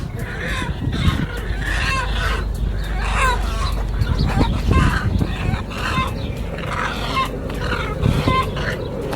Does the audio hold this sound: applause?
no